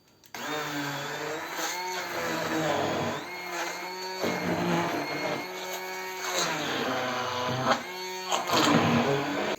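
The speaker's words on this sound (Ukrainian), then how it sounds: "і тепер все це збиваємо блендером" A blender whips a cheese mixture with starch for a cake, running loud and close with a steady motor drone that rises and dips as it works, continuing for several seconds.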